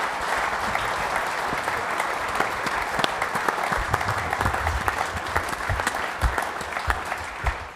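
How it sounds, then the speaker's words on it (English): Audience giving a sustained round of applause, a dense, even wash of many hands clapping at moderate distance, steady throughout with a few sharper individual claps standing out near the end. "Give them all a big round of applause, everybody."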